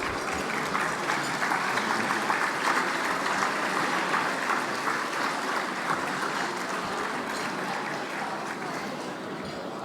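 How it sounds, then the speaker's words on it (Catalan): Sustained applause from the audience at a charity evening gala, a dense steady wash of clapping for about ten seconds that eases slightly toward the end. "Un aplaudiment per amb ells."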